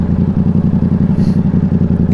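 A Yamaha R7 motorcycle engine with its exhaust, a loud close rhythmic chugging at steady pulses, low and throbbing with clattery edges, running alone without speech.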